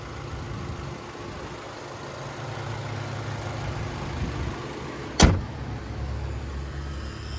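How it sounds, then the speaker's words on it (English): The hood latch of a 2023 Chevy Colorado Trail Boss with a 2.7-liter turbocharged four-cylinder pops once, a single sharp clunk over steady outdoor background noise. "let's go ahead and pop the hood"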